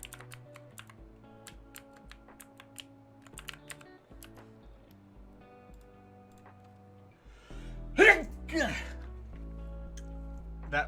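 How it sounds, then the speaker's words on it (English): Against soft, steady computer keyboard typing and faint background music, one sudden loud sneeze bursts out close by, followed by a brief gasping aftersound. "That was a sneeze."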